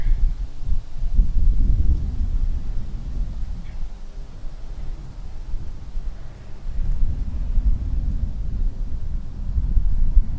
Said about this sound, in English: A little breezy here.